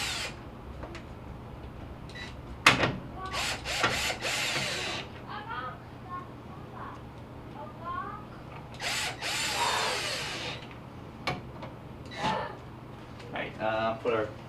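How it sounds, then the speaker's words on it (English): A power drill whirs in several short bursts up close, driving screws into the plastic panel of a Whirlpool washing machine, pausing between runs, with a person speaking at moments in between. "Don't want to over tighten these because you're basically just drilling right into plastic."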